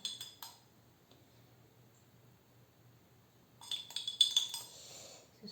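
Harvesting with a plastic spoon: a few light scraping clicks at the start, a quiet gap, then a denser burst of small tapping and scraping sounds, close and fairly soft.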